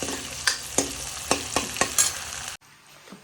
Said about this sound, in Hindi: प्याज मिर्च फ्राई तो मैं लगी थी और